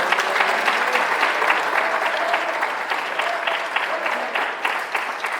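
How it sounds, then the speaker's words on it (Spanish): A church congregation claps together in sustained, dense applause with a steady rhythmic pulse running through it. The clapping holds strongly for the whole span before easing slightly near the end. "En un aplauso al Señor."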